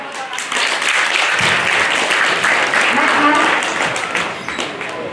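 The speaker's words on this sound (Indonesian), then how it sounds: "Tepuk tangan" Applause from a gathered audience during a human rights festival visit to Kampung Boro, dense steady clapping over about five seconds with a murmur of voices underneath.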